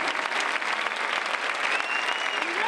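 Steady, dense applause from a crowd at a street protest in Linares, Spain, many hands clapping continuously at an even level throughout.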